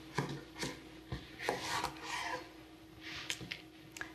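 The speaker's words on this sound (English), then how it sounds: "Take the cucumber, I'm going to cut it in half." A knife cuts through a fresh cucumber with several close scraping, rasping strokes and soft taps on a cutting board.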